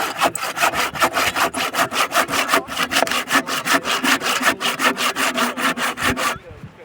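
A hand saw cuts through wood outdoors in fast, steady back-and-forth rasping strokes, loud and close, about thirty strokes before stopping abruptly.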